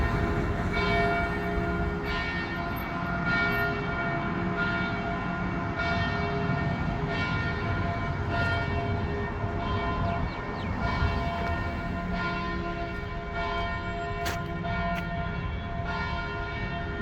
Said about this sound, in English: Oh, now you can hear the bells